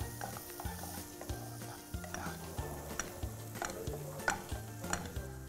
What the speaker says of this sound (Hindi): इसके अंदर हम डालेंगे बारीक कटा हुआ प्याज।